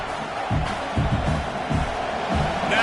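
A stadium crowd at a college football game roars in a steady, loud wash of cheering, with rhythmic swells of noise and some talk mixed in.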